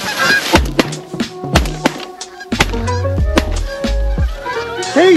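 Geese in a field honk repeatedly as more birds fly in to land, with loud, overlapping calls in bursts near and far and some thumps. Voices can be heard at times.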